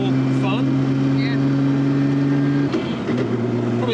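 Nissan Skyline GT-R fitted with an RB30 engine cruising on the road, a steady loud engine drone with a brief shift in pitch partway through, heard from inside the car under ongoing talk.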